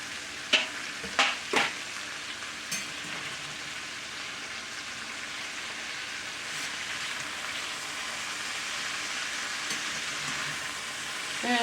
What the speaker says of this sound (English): I'm going to put it in on top of the turnips and potatoes so that I can finish browning